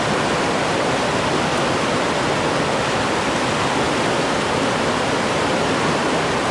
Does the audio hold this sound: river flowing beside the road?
yes